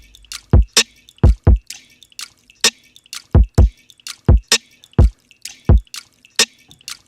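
Processed water-drip samples serve as a snare in a beat, sharp wet plinks landing in a steady rhythmic pattern, about a dozen hits, close and clear with nothing else playing.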